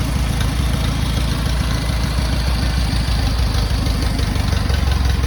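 A Farmall tractor engine runs steadily on a temporary gas tank, giving a close, loud, even idle with a rapid low chugging pulse and no talk over it.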